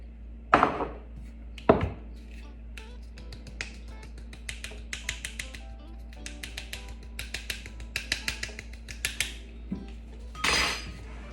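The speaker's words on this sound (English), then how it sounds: "Gently mix it in." Flour, baking powder and egg being gently mixed for an Irish Gur cake, heard as a series of light clicks and taps of a utensil against a bowl, sparse at first then quicker, close and fairly quiet.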